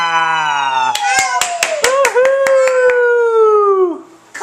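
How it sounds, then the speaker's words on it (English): A young child claps hands several times in a quick, uneven series after climbing the front stairs, close and sharp, while an adult voice cheers and talks over the claps. "Clap for yourself, buddy."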